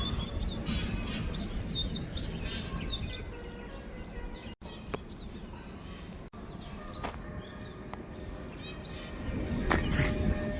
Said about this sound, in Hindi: और ये जो आवाज़ आप सुन रहे हैं ये मोर, मोरनी, इन सब की आवाज़ है और अलग अलग चिड़िया की आवाज़ है यहाँ पे।